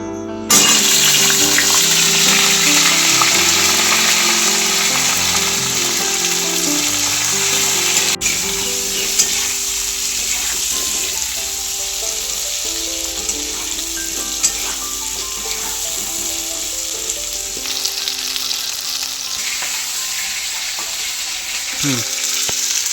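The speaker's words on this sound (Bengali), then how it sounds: "পটলগুলো এখন তেলের মধ্যে ছেড়ে দেবো" Pointed gourd fries in mustard oil with a loud, dense, continuous sizzle, while occasional stirring clinks sound close by and no one speaks.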